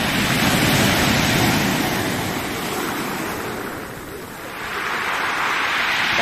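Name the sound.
big waves crashing on the Black Sea shore after a storm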